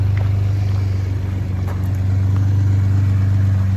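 A Ford F150 with a Garrett Powermax big turbo, MBRP 3-inch cat-back exhaust with resonator delete and CV Fabrication parts idles after a cold start: a loud, steady, deep exhaust drone with no talking.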